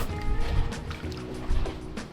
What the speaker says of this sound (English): it's just backfiring